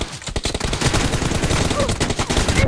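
Continuous loud rapid-fire gunfire in a video game, dense overlapping automatic bursts throughout with shouted callouts mixed underneath.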